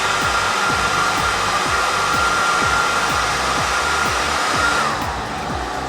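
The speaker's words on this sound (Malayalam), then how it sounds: "ഇതുപോലൊരു ഡ്രയർ വെച്ച് ഇതിന് ചെറിയൊരു ചൂട് കൊടുക്കുക." A hair dryer runs continuously close by, a loud steady whooshing roar, used to warm an eyelash curler, and it dips slightly in level near the end.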